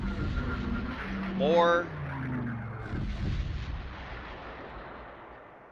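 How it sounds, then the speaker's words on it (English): Artillery barrage and airstrike booms rumble in Close Combat: Panthers in the Fog, set at Tirepied in August 1944. The heavy, dull blasts roll continuously beneath a voice. "Here comes an artillery barrage. Airstrike."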